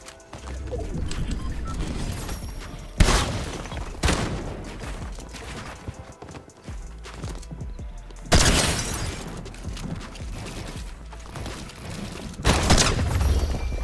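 Bursts of video game gunfire from a Fortnite Chapter 5 match, several loud broadband volleys at roughly three, eight and thirteen seconds over a steady game soundscape, with smaller shots scattered between.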